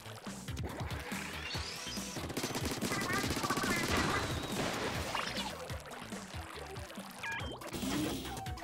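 Weapon fire from a chargeable gun in Splatoon 3 mixed with splashing, pouring ink sounds and busy game effects. The shots and splatter run continuously at a steady loudness throughout.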